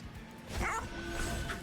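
A bone dog unit from the game Monster Train 2 lets out a short yipping bark with a brief whimpering tail, close and fairly loud over quiet game background.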